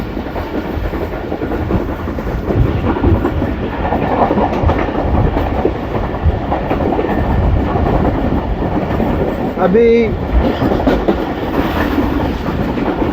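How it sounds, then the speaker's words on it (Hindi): Pakistan Express rolls toward Ratiyal railway station through forest, a loud, steady rumble of wheels and carriages with rhythmic clatter close by; a voice speaks briefly near the end. "रतियाल रेलवे स्टेशन की तरफ पाकिस्तान एक्सप्रेस बढ़ रही है"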